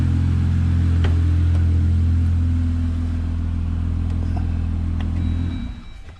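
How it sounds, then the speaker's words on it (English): Jeep Wrangler engine idling with a low steady rumble, then shut off so the sound fades out near the end; no talk. "Turn the Jeep off here real quick"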